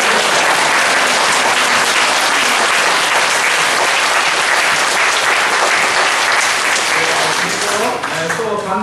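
Church congregation applauding loudly and steadily, a dense wash of clapping from many hands that fills the space throughout, with a cheer rising near the end.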